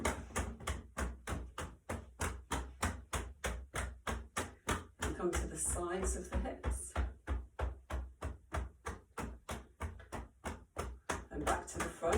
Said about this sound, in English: going to knock on the front of the hips all round.